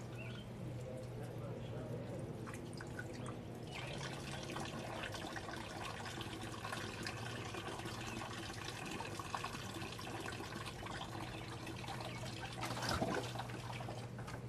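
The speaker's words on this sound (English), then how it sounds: "I'm hitting this with a lot of water because I put too much paint" Water pours and splashes steadily over a marbled paper print, rinsing off excess paint, a continuous close running-water wash with a low hum beneath and a brief louder splash near the end.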